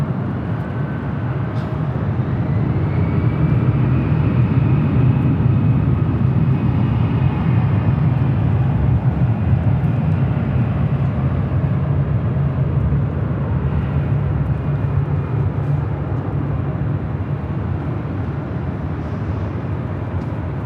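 A jet airliner taxis at LAX, a steady low engine rumble and whine that holds fairly loud and unbroken from a nearby vantage, no voices heard.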